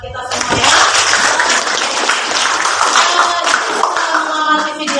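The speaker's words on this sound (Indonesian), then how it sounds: "Tepuk tangan buat kita semua ya." Classroom applause as students clap together, a sustained burst of many hands clapping close by for several seconds, with voices mixed in under the clapping.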